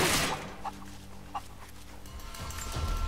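A chicken clucking in the video game Rise of the Tomb Raider, a few short close clucks spaced irregularly over a low game background hum, with no talking.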